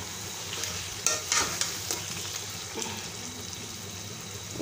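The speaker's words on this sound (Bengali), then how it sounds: "এই যে ভালো করে এখন নেড়ে নিচ্ছি" Spiced country chicken is stirred in a pan, with a quiet sizzle running underneath and a few sharper scraping strokes around the one- to three-second mark.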